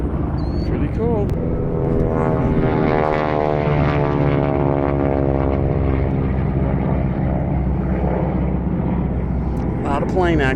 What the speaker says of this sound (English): A lot of plane action.